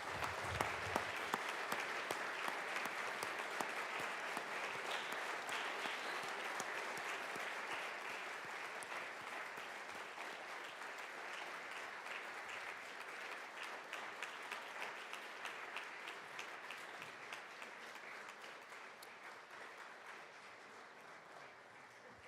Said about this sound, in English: Let's give them a round of applause as they head out.